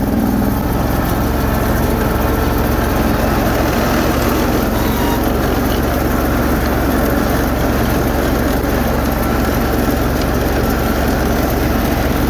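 A snow blower engine runs with a steady, loud, close mechanical drone for about twelve seconds, with no speech.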